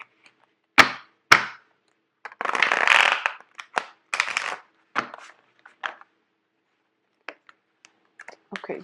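Tarot cards are riffled and shuffled in several short bursts, close and crisp, with a longer flurry in the middle and scattered small taps and flicks afterward, no talking over them.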